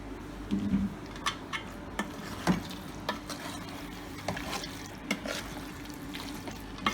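Duck pieces are stirred into a frying curry masala, with a steady soft sizzle and intermittent scraping clinks of a spoon against the pan, close and fairly quiet.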